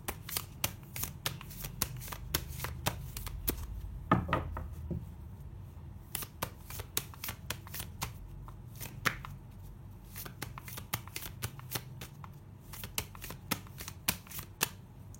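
Tarot cards shuffled by hand in a steady run of sharp, close riffling snaps and flutters that repeat for about fifteen seconds, with a soft rustle of handling between bursts.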